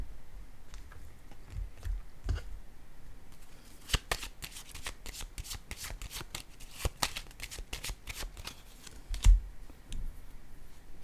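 Tarot cards are handled and laid down on a table, giving a close series of light, crisp card snaps and slides in irregular bursts over a quiet room background.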